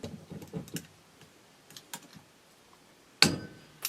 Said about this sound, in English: I'm going to use a clamp, and the clamps have a little cutter in there, so it works pretty good.